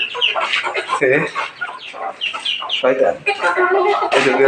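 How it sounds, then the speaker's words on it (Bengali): Young cockerels clucking and cheeping up close, a busy run of overlapping calls with soft pecking sounds, no talking. "এই পাশে আমার মোরগের বাচ্চাগুলো আমাকে ঠোকাচ্ছে"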